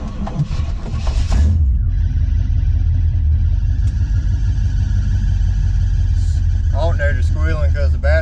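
A worn 1980 Chevy Camaro, an ex-racecar, cranks over with a rapid rumbling churn, then catches and settles into a loud, steady low idle with a thin whine on top, while someone talks near the end.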